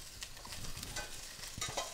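Chicken pieces and vegetables brown in a pot for stock, giving a steady soft sizzle and frying crackle with occasional stirring scrapes, close and moderately quiet.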